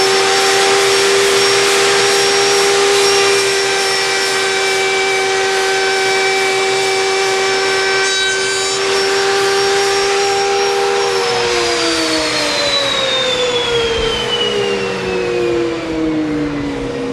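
A router cutting plywood with a dust collector running, a loud continuous high whine and roaring airflow held steady, then the motor pitch sliding downward as it spins down near the end.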